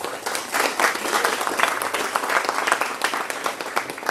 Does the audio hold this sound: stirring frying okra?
no